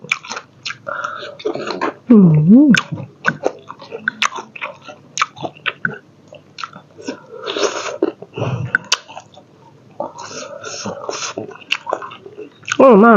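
Someone eats wakame seaweed dipped in suki sauce, with soft close-up bites and chewing between whispered and spoken remarks.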